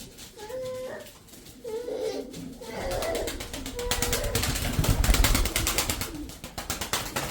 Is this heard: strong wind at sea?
no